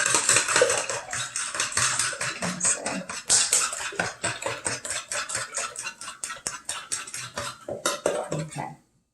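Rapid rhythmic clinking of a fork whisking frittata ingredients in a bowl, dozens of quick close metallic taps that run steadily for several seconds before stopping abruptly.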